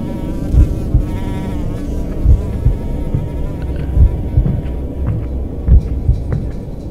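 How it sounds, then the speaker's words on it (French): Fly buzzing in the horror video game Dungeon Nightmare, a steady low droning hum that carries throughout, with soft thuds pulsing beneath it and no voices. "la mouche là commence pas à me saouler"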